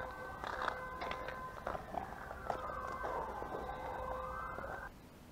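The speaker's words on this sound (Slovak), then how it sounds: "Áno výjazd hasičských aut. Každé ráno húkajú." Fire engine sirens wail as the trucks head out on their morning run, a distant rising and falling siren in the background with faint street noise around it.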